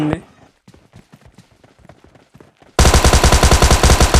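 Rapid automatic gunfire from PUBG Mobile Lite, a loud sustained burst of closely spaced shots after quieter footsteps and movement sounds.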